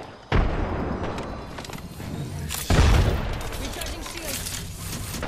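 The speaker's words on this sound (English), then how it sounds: "Look out, grenade." Game explosions and gunfire in Apex Legends: two heavy booming blasts, one near the start and another about halfway, with continuous battle noise and shooting between them, loud and close.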